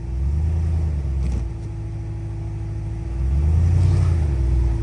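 A diesel Jeep Gladiator climbs off-road with a steady, loud, deep engine rumble that swells as the throttle opens near the end, heard close and alone.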